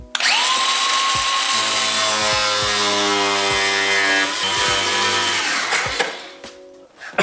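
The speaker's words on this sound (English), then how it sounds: "In order for the bumper to fit, I need to cut a little bit out where we put the charge piping in the side." A power tool cuts into a plastic car bumper on a twin-turbo Hellcat, a loud, close, whining buzz that shifts in pitch as it bites, running for several seconds before cutting off.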